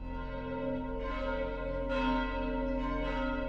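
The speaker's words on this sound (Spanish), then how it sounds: "las campanas comenzaron a sonar" Church bells ring steadily with rich, sustained overlapping tones, their resonant peals swelling in a few places and filling the whole space.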